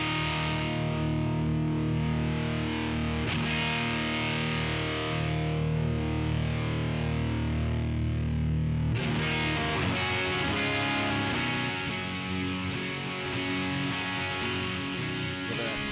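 Electric guitar through a Mojotone Studio One amp with a scooped tone, heavily distorted chords ringing continuously and loud, with a shift in voicing partway through, no talking.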